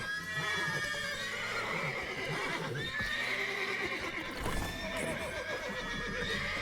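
Horses in The Witcher 3 video game neigh and whinny loudly several times in close succession, with a clip-clop of hooves underneath and no talking.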